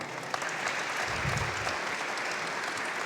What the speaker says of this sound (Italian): Allora li chiamo e sono Emily Bortolazzo, un applauso,